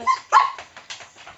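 A dog gives a few short, sharp barks and yips in quick succession, close and clear in an otherwise quiet room.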